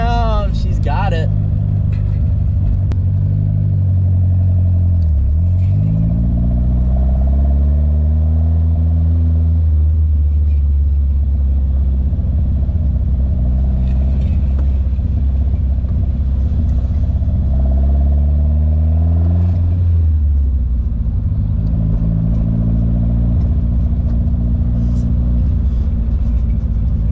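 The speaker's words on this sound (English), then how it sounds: "More gas, let off the gas, clutch in, second, let off, perfect." A manual 1971 Toyota Celica engine hums steadily while driving, its pitch climbing with throttle and dropping sharply at gear changes near 5 and 20 seconds, with a voice speaking over it.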